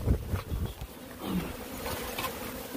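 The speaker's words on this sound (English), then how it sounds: "Look at all the bees in here." Bees buzzing inside an opened hive, a dense, continuous hum of many insects close by, with some brief handling bumps near the start and no speech.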